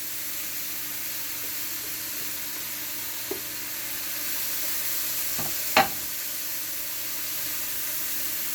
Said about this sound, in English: we are going to add the carrots in here